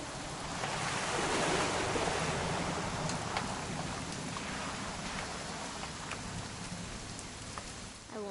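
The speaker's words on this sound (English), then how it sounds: "It's gonna rain the whole weekend," In What Remains of Edith Finch, rain pours in a broad steady wash of hiss with scattered distinct drops, swelling early and then easing slightly, heard alone without speech.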